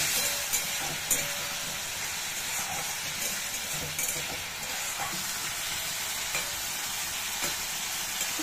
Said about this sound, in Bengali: এটাকে ভালো করে একটু কষে নিয়ে আমি